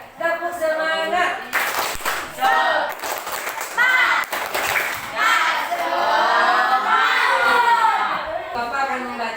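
Schoolchildren in a classroom perform a rhythmic clapping chant, their voices chanting together between bursts of group hand claps, loud and close.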